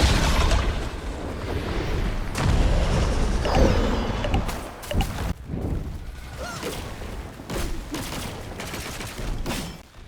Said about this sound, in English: this guy does release these green goblin type explosions, which are quite random and they explode on impact